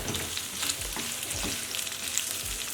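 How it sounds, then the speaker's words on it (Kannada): Chopped onions sizzle and crackle in a tablespoon of oil in a pan over high flame, with a steady hiss and occasional stirring scrapes, close and alone without talk. "ಹೆಚ್ಚಿಟ್ಕೊಂಡಿರೋ ಈರುಳ್ಳಿ ಹಾಕ್ಕೊಳ್ಳೋಣ ಹೈ ಫ್ಲೇಮ್ ಇಟ್ಕೊಂಡು ಸ್ವಲ್ಪ"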